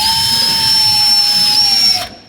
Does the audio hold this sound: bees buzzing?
no